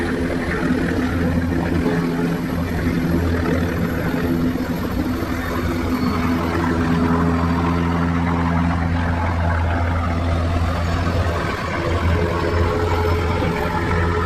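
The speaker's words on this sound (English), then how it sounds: "This helicopter creating a dust storm." A helicopter hovering low and kicking up a dust storm, its steady rotor and engine drone loud and continuous throughout with no talk.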